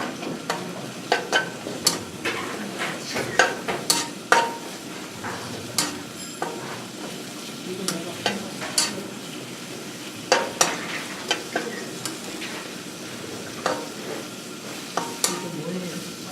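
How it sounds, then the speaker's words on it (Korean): Bell peppers seasoned with a little salt are stir-fried in a pan, with a continuous soft sizzle broken by frequent sharp scraping and tossing clicks from the utensil, close by and irregular. "그래서 소금간을 이렇게 해서 살짝 볶아주시고요"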